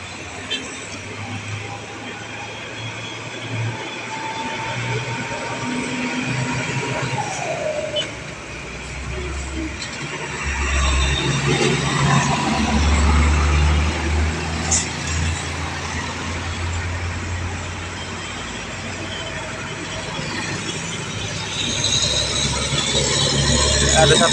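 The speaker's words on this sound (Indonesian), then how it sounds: "Pagi ini seperti biasa lintas timur didominasi truk-truk besar" Big trucks roll past on the Lintas Timur highway in Sumatra, a continuous low engine and tyre rumble that swells and fades as vehicles go by, with a voice talking over the traffic.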